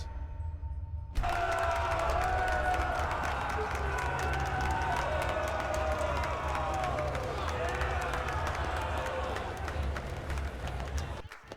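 Crowd applauding and cheering in the video game Enderal after a winner is announced, a sustained wash of clapping and whoops that starts abruptly and carries evenly for several seconds before cutting off, with voices mixed in.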